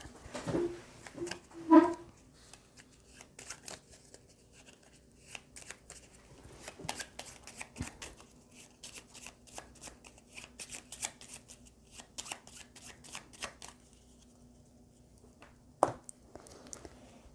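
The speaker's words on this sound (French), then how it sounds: "Et il va mélanger son deck." Someone shuffles a deck of cards during a solo board game session, soft riffling and sliding bursts that come and go over quiet room tone, close and faint, with no talking.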